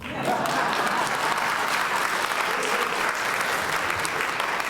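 Congregation applause at a Unitarian Universalist Sunday service, dense and loud clapping from many people that holds steady for several seconds without a break.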